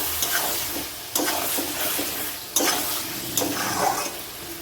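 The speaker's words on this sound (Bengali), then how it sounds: "তো নেড়ে চেড়ে আমি এবার নামিয়ে নেব।" A pan of chicken curry cooked with roasted spices is stirred and turned, giving soft sizzling under a few distinct scraping strokes of a utensil, close and moderately loud.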